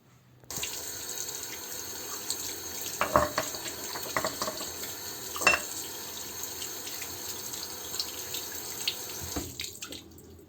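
A stove burner cap is washed under a running kitchen tap, with a steady hiss of flowing water and a few clinks and splashes as the metal is handled in the sink.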